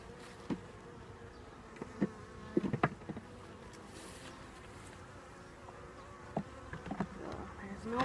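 Honey bees buzz around a hive being inspected in spring, where a new package of bees is settling in, a steady close hum with occasional louder passes of single bees.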